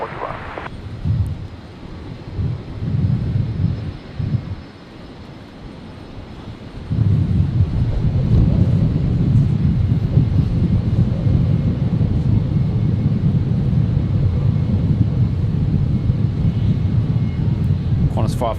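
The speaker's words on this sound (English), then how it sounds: "Qantas 541 lining up now. Off to Sydney." A Qantas airliner bound for Sydney takes off from runway 19 left at Brisbane, its engines building to a loud, steady roar that holds to the end after a quieter start with rumble and wind.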